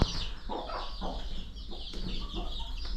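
Desi hens at a village poultry farm with laying and brooding rooms, clucking in repeated short bursts over a steady low hum, several birds close by with no talk.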